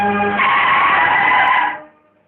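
A car brakes hard to a stop, its tires screeching in a loud, sustained skid that ends after about two seconds and leaves near silence.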